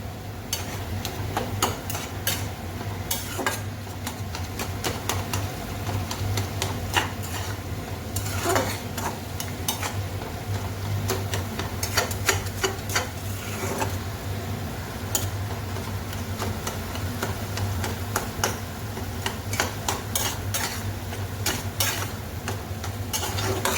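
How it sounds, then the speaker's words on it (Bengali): Lote greens fry in a pan while being stirred, giving a steady low sizzle with scattered clicks and scrapes of a utensil against the pan throughout. "শাক ভাজা নাড়া দিয়ে দাও"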